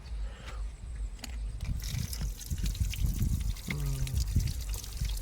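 Water pours and trickles steadily from a large pipe fed by a well on a farm, a continuous splashing flow with faint background sounds mixed in.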